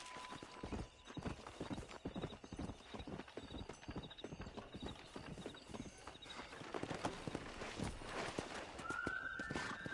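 Horse hooves gallop in a rapid, steady clip-clop during a race in Red Dead Redemption, with a brief whinny near the end, heard close over faint outdoor ambience.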